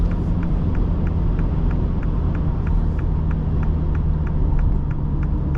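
A 2023 MINI Cooper Countryman S under full throttle, a steady low engine rumble and drone heard from inside the cabin, with a faint regular ticking over it.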